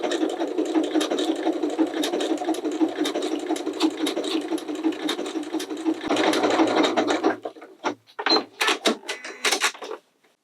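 A sewing machine runs steadily, sewing an overlock stitch along a fabric edge with an overlock presser foot, a close continuous mechanical whir for several seconds, then a few separate clacks and clicks as it stops.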